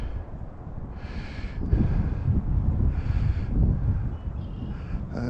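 A light breeze blows outdoors at night on a quiet town bicycle ride, rumbling in low, gusty waves against the microphone, with faint higher hissing bursts.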